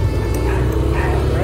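Dogs yip and bark amid steady loud outdoor noise, likely during a ride in the Philippines, the barking brief and partly masked.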